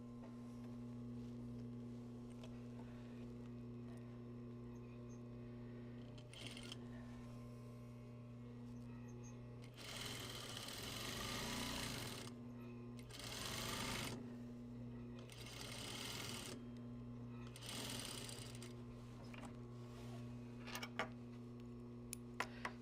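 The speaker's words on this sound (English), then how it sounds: "I'm going to put the right sides together. And I'm going to stitch at 1/2 an inch." A sewing machine stitches a half-inch seam on a collar in several bursts of close mechanical whirring over a steady low electrical hum, with brief pauses between runs.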